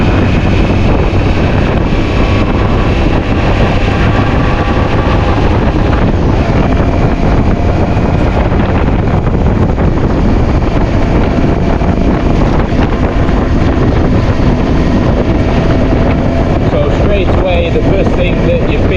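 Steady, dense rush of wind over the helmet microphone while riding a Zontes ZT 703 F motorcycle on the road in the UK, with engine and road noise buried underneath. The roar is loud and continuous, without a break.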